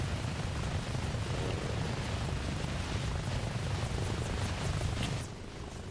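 An OH-58D helicopter gives off a loud, continuous, close rotor and engine roar with no voices, easing slightly in the last second.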